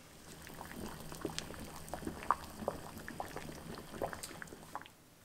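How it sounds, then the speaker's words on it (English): Pot of boiling water heating a 1995 vintage US MRE beef stew pouch, giving a faint, steady bubbling and popping with small irregular pops throughout. "pop this in a pot of boiling water"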